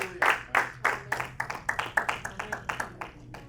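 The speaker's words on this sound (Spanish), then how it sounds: "Dale un aplauso al Rey de los cielos." A congregation at an evangelical church service claps in a rhythmic, fairly steady beat of sharp handclaps, about four per second, close and clear, with a low hum underneath.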